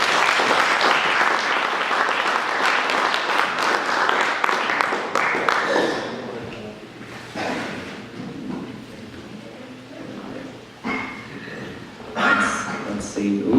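Audience at the Columbia City, Indiana State of the City event applauding to welcome the city's mayor; loud sustained clapping that fades after about six seconds, followed by someone speaking into a microphone.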